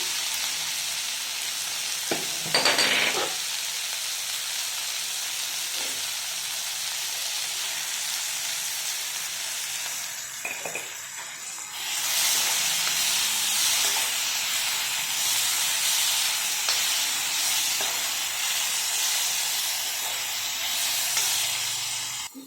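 Tomatoes fry and sizzle in a pan for spicy kara chutney, a steady close hiss of oil with a few brief stirring knocks, getting louder and brighter about halfway through.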